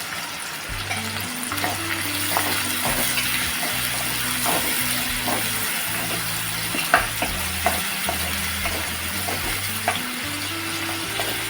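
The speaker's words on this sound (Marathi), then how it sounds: "आता आपण कांदा टाकणार आहोत आणि कढीपत्ता" Onion and curry leaves frying in hot oil for a Maharashtrian mixed vegetable dish make a loud, steady sizzle with frequent stirring scrapes and occasional sharp pops, close by and without speech.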